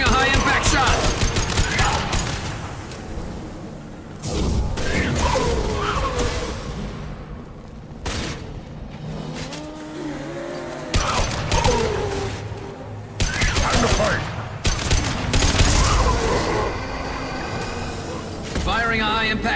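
Rapid gunfire in Mass Effect 2 from a high impact shot, with repeated loud bursts and clattering impacts through much of the clip, while voices talk over the action.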